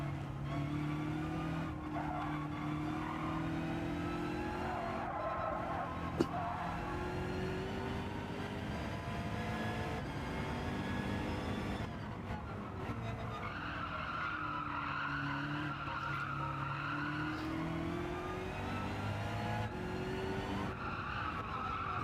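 Race cars in the Gran Turismo 7 video game roar through a lobby race, with several engines droning and shifting pitch together under steady tire squeal and skidding, continuous and fairly faint throughout.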